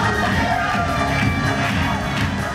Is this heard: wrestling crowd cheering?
yes